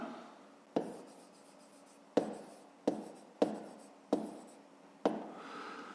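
A pen writes out a math solution on paper, six or seven sharp taps each followed by short scratchy strokes, close and quiet with no talking.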